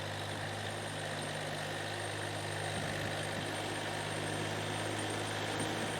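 A tractor fitted with a snow blade pushes heavy snow, its engine a steady, low, continuous drone throughout with no voices.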